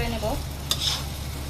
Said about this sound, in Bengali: আমি একে একে সবগুলো মশলার সাথে নুডলসটা মিক্স করে নেব